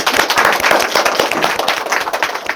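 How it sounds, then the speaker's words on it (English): A talk show audience claps in a round of applause, dense and loud throughout the short stretch, with sharp individual hand claps standing out in the steady wash. "Can we get a round of applause?"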